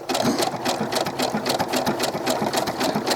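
A sewing machine stitches a doll's t-shirt, turning at the underarm to form a sharp corner; a steady, rapid, close-up whir of needle strokes runs without pause throughout.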